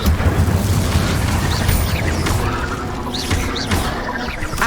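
Incendio fire spell cast in Hogwarts Legacy combat, a dense roaring, booming burst of flame and impacts filling the clip loudly, with crackling pops and a dense battle background.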